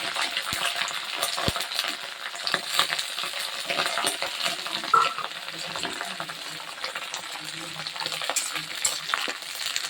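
Neem leaves frying in hot oil, a continuous crackling sizzle with intermittent utensil scrapes and light metallic taps from stirring.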